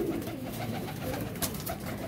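Flying-breed pigeons in a loft give soft, continuous low cooing, a murmuring bed of calls that holds steady throughout, with no one speaking.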